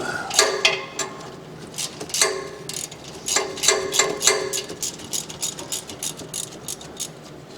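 A ratchet wrench turning a bolt on a machine that a buyer rejected over a noise gives off close, dry, metallic clicking in quick bursts with short pauses between them, heard alone.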